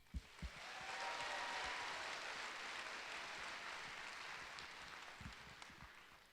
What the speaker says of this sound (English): We would also like to give a round of applause to Nicholas Hadfield